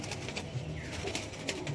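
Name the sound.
pigeons cooing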